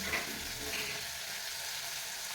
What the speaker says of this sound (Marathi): पावट्याचे दाणे पण या मसाल्यामध्ये दोन मिनिट भाजून घ्यायचे